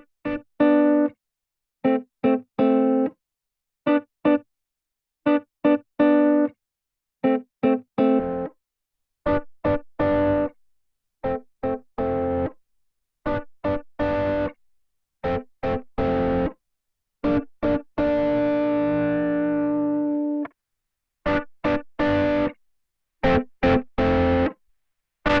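Electric guitar played through the Arturia DistOp Amp 21 amp plugin, a dark distorted tone in short choppy chords and riffs separated by silences, with one longer sustained chord, clear and alone.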